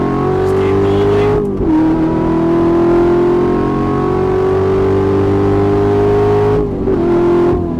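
A Chevrolet Corvette C7 Z06 with a 7-speed manual accelerates hard, its loud engine note climbing steadily through the revs with quick dips at two gear shifts, heard from inside the car while people talk.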